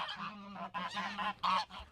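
Several geese honking near their coop, a close series of four or five loud nasal honks in quick irregular succession.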